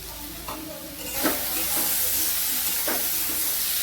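Beans, potato and bori frying together for a fish curry, a steady sizzling hiss in the pan with a few soft stirring scrapes and taps.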